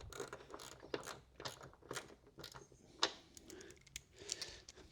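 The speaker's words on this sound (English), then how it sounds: "we'll just torque those up a little bit so that don't go anywhere" A ratchet clicks as it tightens the cam cover bolts on a BMW E36 328i M52 engine, with faint irregular clicks and metallic ticks and one sharper snap near the middle.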